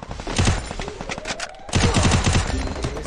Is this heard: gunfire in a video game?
yes